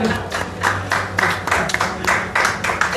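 A church congregation claps during a Spanish-language sermon, with steady, fairly loud, rhythmic claps roughly twice a second filling the whole stretch and a low background hum beneath.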